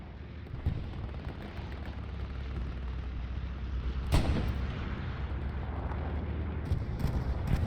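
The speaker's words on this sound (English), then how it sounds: "we're expecting artillery to be coming in at any moment" Artillery fire in a World War II video game battle on Utah Beach, a rumbling backdrop broken by distant booms and one sharper loud blast midway, with scattered gunfire and no talking.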